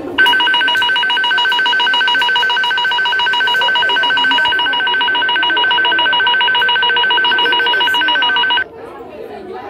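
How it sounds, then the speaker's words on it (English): An airplane stall warning alarm rings loudly and continuously like a telephone bell, a steady electronic tone held for about nine seconds before stopping, with faint voices and rustling afterward. "We're gonna be rating these stall alarms with the names of the airplanes."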